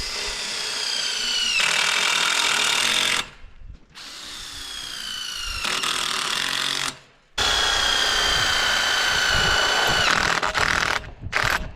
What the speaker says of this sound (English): Now put the rest of the screws in.